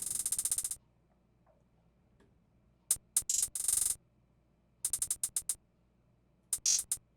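Crisp hi-hats in a bouncy, uneven programmed pattern come in short bursts of quick ticks separated by gaps of near silence, dry and up close with nothing else playing.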